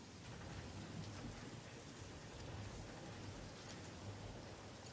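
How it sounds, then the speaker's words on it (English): Soft, steady rain in the video game Satisfactory, a faint even hiss of falling water with a couple of tiny sharp ticks, with no speech. "Is that the rain in the game?"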